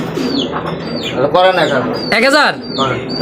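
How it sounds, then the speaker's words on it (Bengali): Pigeons at a market, including racer birds, coo up close in a series of rolling, throaty calls mixed with short chirps, loud and clear over a slight background murmur. "দেখতে পাচ্ছি এখানে আরও এক পেয়ার কবুতর"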